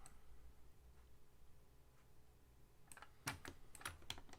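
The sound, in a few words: computer keyboard shortcut typing, Ctrl C V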